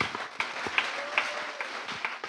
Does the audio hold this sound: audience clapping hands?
yes